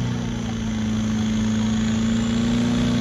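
Open-class diesel truck hooked up at a truck pull in Eleva, Wisconsin, its engine droning loudly and steadily with a strong low hum that slowly builds in pitch, alone without voices.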